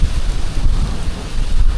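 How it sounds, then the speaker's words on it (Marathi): Heavy rain pouring in a mango orchard near a highway, a loud, dense, continuous hiss and rumble with some wind buffeting the microphone. "हे बघा खूप जास्त जोरात पाऊस यायला लागलाय"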